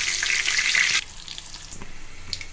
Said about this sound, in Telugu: 3 to 4 లవంగాలు, పట్ట, 2 బిర్యానీ ఆకు, 4 to 5 పచ్చిమిర్చి. ఇది కాస్త ఫ్రై చేసుకోవాలి.